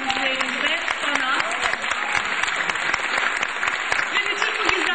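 Concert audience at a Turkish classical music club performance giving lively applause, dense close clapping filling the whole stretch, loud and sustained, with a few voices mixed into the crowd.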